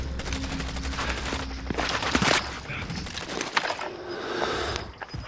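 Rapid gunfire in a Call of Duty: Modern Warfare match, with bursts of automatic shots and scattered single cracks over a busy game mix, fairly close and steady for about five seconds.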